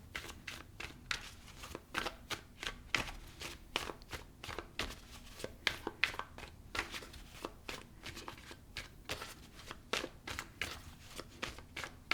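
Tarot cards are shuffled close by in quick, crisp riffling bursts, a fast irregular patter of papery slaps that repeats without pause, with no talking.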